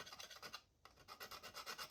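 A file rasps back and forth on plastic scale model kit parts to smooth them, a rhythmic series of close, faint scraping strokes with one brief pause, no talk.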